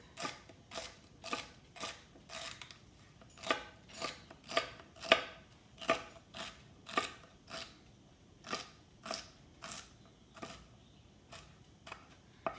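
A kitchen knife dices celery on a cutting board for chicken and rice soup: about twenty crisp, close chops in a quick, steady rhythm, with no talking.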